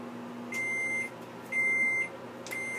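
A microwave oven heating sugar gives three evenly spaced electronic beeps, each about half a second long, clear and close over a low appliance hum.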